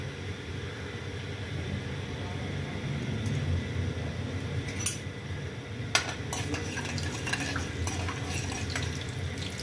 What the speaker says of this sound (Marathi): राई आणि जिरं तरतरलं तर मग आपण शेंगदाणे टाकणार आहोत.